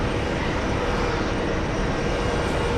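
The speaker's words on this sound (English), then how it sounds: "So the Virgin Atlantic flight heading to Manchester is taxiing to the runway." Jet airliners taxiing at JFK airport, a steady, loud broadband roar and whine of engines that holds constant with no talking.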